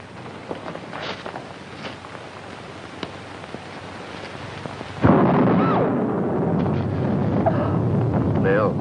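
A thunderclap from a storm bursts in suddenly midway, loud and close, leaving a sustained rumbling wash of rain and wind after a quieter stretch with faint voices.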